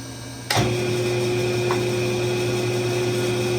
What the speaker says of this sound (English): I should be able to drill them all at once.